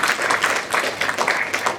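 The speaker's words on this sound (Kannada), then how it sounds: "ಬರ್ಲಿ ಒಂದು ರೌಂಡ್ ಚಪ್ಪಾಳೆ" A crowd applauds Manu on stage at a film event, a steady wash of many hands clapping together without pause, fairly loud and close.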